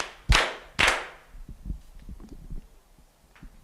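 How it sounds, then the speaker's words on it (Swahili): Congregation clapping at a teens church service, two sharp loud claps followed by softer scattered taps and light thumps. "Makofi yake."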